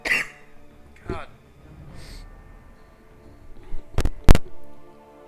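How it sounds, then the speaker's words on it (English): A few sharp, abrupt coughs near the end, close and loud, after some quiet murmuring and breathing. "Stupid cough from today."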